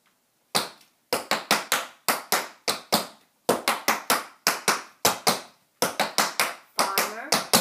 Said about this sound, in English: I'm starting a triple time step into a tacky time step.